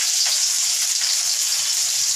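Onions fry in hot oil with a loud, dense, steady hiss of sizzling that stays even throughout, with no voices.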